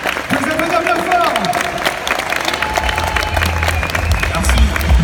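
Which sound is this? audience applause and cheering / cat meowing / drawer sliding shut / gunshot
audience applause and cheering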